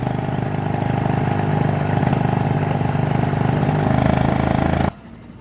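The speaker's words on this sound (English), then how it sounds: "You said you wanted me to start my engine with one hand?" A Blackhawk 125 minibike engine runs steadily after a pull start, a loud, close, even small-engine drone that holds for about five seconds before cutting off abruptly into near silence.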